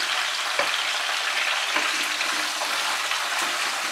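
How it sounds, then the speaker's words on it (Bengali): Cucumber shukto vegetables tossed with salt and turmeric in a pan give a steady, close sizzling hiss, broken by a few soft scraping knocks of the spoon. "নুন হলুদটা সবজিগুলোর সঙ্গে ভালো করে মিশিয়ে দিচ্ছি"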